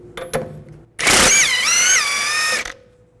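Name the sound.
removing nut with 24mm socket on VW Jetta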